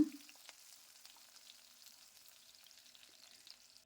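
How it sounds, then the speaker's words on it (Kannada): Crushed garlic and green chillies frying in oil, with a soft, steady sizzle and faint crackles after a brief clunk at the start, fairly quiet and close with no talking. "ಬೆಳ್ಳುಳ್ಳಿ ಹಸಿಮೆಣಸಿನ್ಕಾಯಿನ ಎಣ್ಣೆಲಿ ಚೆನ್ನಾಗಿ ಫ್ರೈ ಮಾಡ್ಕೊಳ್ಳೋಣ"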